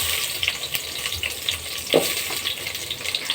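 Red and white onions hitting a hot frying pan of oil, a steady broad sizzle with occasional stirring scrapes and one louder clatter near the middle, close and continuous.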